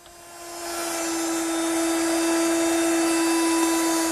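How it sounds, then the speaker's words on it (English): A router fitted with a chamfering bit cuts a chamfer along the edge of an oak vanity top, a steady high-pitched whine rising at the start and holding loud and constant throughout, with no talking. "the next thing I want to do is chamfer the edge of the top. And I'll do that using my router with a chamfering bit."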